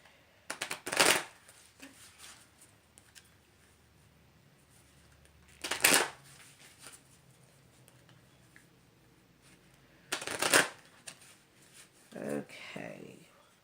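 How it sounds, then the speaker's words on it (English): A 44-card deck of oracle cards is shuffled in three distinct quick riffling bursts, separated by quiet pauses, with a softer fourth rustle at the end. "So just shuffling here."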